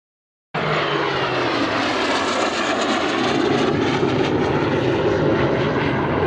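A powerful aircraft engine roars steadily and loudly at the Shoreham Airshow 2011, starting abruptly and holding a sustained, broad rushing drone as the plane passes close by.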